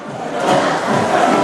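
Broad crowd roar at a night high school football game, Riley fans cheering in the stands with a school band faintly mixed in, steady and loud throughout with a swell midway.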